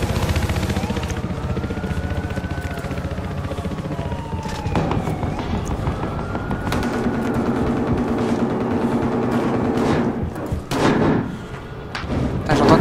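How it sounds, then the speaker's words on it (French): Battlefield Hardline multiplayer gameplay on PS4 fills with loud thumps, bangs and distant gunfire in every direction, along with a wailing police siren and helicopter rumble in the background. "J'entends tirer de partout là."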